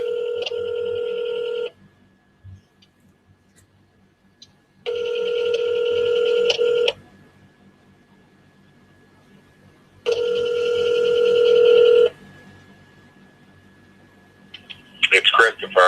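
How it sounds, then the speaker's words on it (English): Outgoing phone call ringback tone: three long two-second rings separated by pauses of silence, loud and close, with a brief voice at the end. "Come on, answer your fucking phone."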